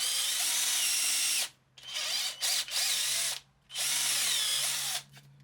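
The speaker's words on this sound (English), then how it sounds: "and just a bit of scrap for backing, drill the whole way through" A power drill bores through wood backed by a piece of scrap, with a loud high whine in several bursts separated by brief pauses, alone without talk.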